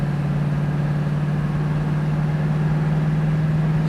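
A 1968 Ford Mustang engine running steadily while driving in third gear at about 50 mph, a constant low hum with road noise, close and unchanging, with no talk.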